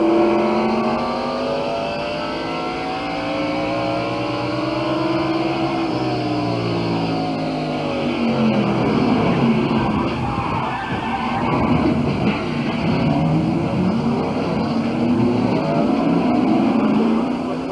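Stock cars race at the 1992 First Union 400, their loud engines roaring and shifting pitch as they pass close by in a sustained, continuous blast of sound with no talking.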